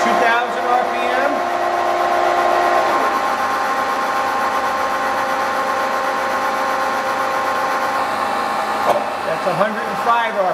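A Cincinnati Cinova universal milling machine's spindle runs at 2000 RPM, producing a steady, loud tonal whine with layered harmonic hum that shifts in pitch briefly near the start and again at the end.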